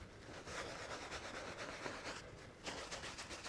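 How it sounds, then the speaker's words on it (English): A dry tissue rubbed in small circular motions over a painted surface to lift paint, a soft, close, continuous scrubbing with a brief pause before it resumes, no talking. "Using a dry tissue to start with, I'm going to take it off from the lightest areas first"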